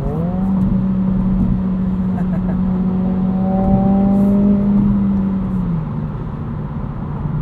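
A 2022 Honda Civic Si engine revs under throttle, its steady drone climbing in pitch over several seconds before easing back as the revs drop. The sound is close and loud throughout, with no talking.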